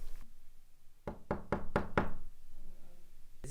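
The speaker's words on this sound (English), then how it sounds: "I will knock before entering" Five sharp knocks land on a bathroom door in an old castle, close and evenly spaced in a quick run, with a quiet room behind them.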